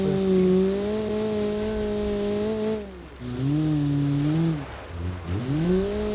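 A 1977 communist car pulls away in first gear, the close engine droning loudly, then briefly dropping in pitch at each shift before climbing again.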